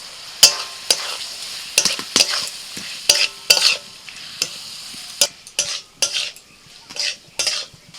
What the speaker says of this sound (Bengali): মশলা কষিয়ে নিয়ে দিয়ে দিচ্ছি ভাজা পটল সাথে দিচ্ছি টমেটো কুচি